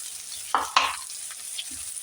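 Cooked noodles being stirred into a vegetable filling for veggie pockets, two quick scraping stirs close by and then a faint clink, set against near silence with no talking.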